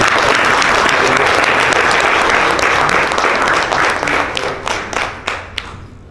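At a ceremony handing over equipment to the Judiciary of Guyana, the room breaks into loud, close applause that holds steady, then thins to scattered individual claps before fading out.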